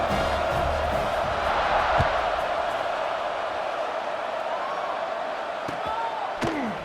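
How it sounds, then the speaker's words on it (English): A crowd buzzing in a college football video game, California versus Syracuse, a constant loud roar of cheering with occasional thumps and whoops, under steady commentary. "this crowd is buzzing after that last score"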